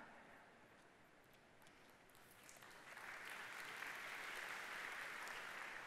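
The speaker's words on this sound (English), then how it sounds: "you guys are making this too easy with the applause" A conference audience at a software session applauds, quiet and distant at first, then swelling into fuller, denser clapping that continues to the end.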